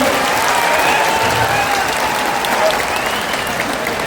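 A large political rally crowd applauds loudly to welcome Prashant Kishor in Bihar, a thick, continuous roar of clapping with crowd noise mixed in, steady and unbroken throughout.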